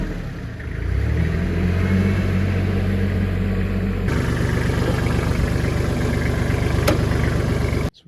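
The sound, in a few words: tractor engine running, tractor moving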